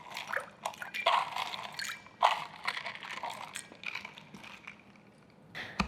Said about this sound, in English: I've measured out my water first, and then I'm gonna add some ice to it.